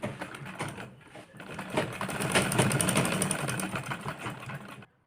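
A sewing machine stitches blouse fabric in short, uneven bursts of rapid clattering, swelling and easing in loudness before cutting off abruptly.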